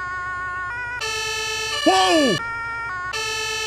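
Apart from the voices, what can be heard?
fire truck siren in video game Farming Simulator 22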